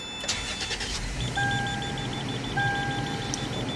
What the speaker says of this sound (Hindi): इसको हम दबाएंगे तो देखिए स्टार्ट हो जाएगा।